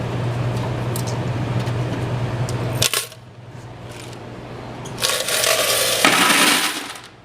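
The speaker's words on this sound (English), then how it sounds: "Get some coin in there." Coins dropping into a laundromat machine, a few clattering jingles against steady machine hum, with a louder burst of rattling near the end; close and fairly loud.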